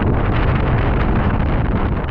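Heavy wind pounds the microphone during a DIY electric BMX ride in a constant, loud, close roar with no pauses.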